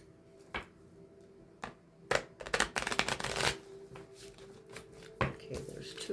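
Tarot cards are shuffled by hand in short riffling bursts and taps, close and fairly quiet, with a longer flurry in the middle and a person speaking softly between the bursts.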